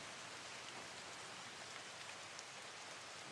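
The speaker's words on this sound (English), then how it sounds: "Let's give us some rain." Steady, even rain plays as a background ambience, a continuous broadband hiss of drops on a surface that holds at a constant level throughout with no talk over it.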